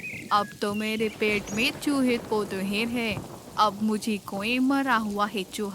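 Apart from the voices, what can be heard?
heavy rain and thunder in animated story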